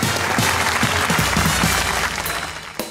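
Loud applause from a studio audience on a Pakistani comedy talk show, a full wash of clapping that stays strong and then tapers off near the end.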